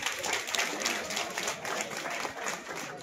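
Applause for a teacher at a school event, a steady wash of many hands clapping at moderate distance, dense and continuous throughout.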